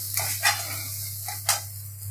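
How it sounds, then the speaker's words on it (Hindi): A poppy seed mixture fries in a pan and is stirred. A steady sizzle runs underneath several sharp scraping strokes of a utensil against the pan, with no one talking. "तब तक इसको अच्छे से भून लेंगे।"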